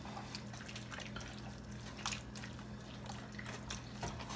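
A cup of water is poured over chicken in a cooking pot, a steady soft trickling wash of liquid that runs throughout under a low constant hum, with faint drips.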